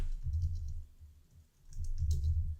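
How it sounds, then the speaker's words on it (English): Keys tapped on a Mac computer keyboard, two short quiet bursts of soft clicks with a brief pause between, close and alone. "I typed command and space and then type terminal"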